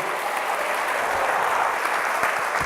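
A church congregation at a Sunday service bursts into loud, sustained applause, a dense steady wash of clapping filling the room without a break.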